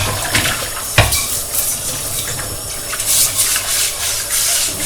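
A brush scrubs a non-stick saucepan under running tap water, giving a steady watery wash with scraping strokes and a sharp knock of the pan near the start.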